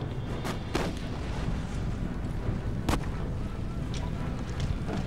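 Musket volley fire in the Empire Total War strategy game, with a few sharp cracking shots over a dense rumbling battle bed and wind-like noise, distant popping scattered between the louder reports.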